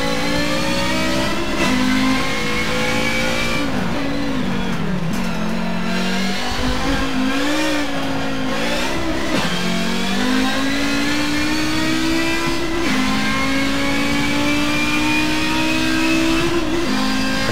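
Audi 90 IMSA Group 5 race car with a five-cylinder engine in the Forza Motorsport game, revving loud and close through repeated climbs in pitch with brief drops at each gear change, alone with no voices.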